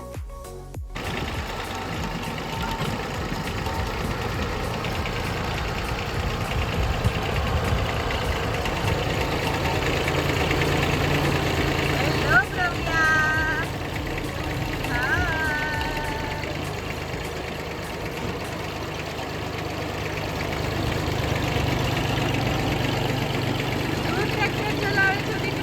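A tractor engine idles steadily, one of a small and a large tractor a little girl sits in to play; the even mechanical chug holds for the whole stretch with faint voices in the background.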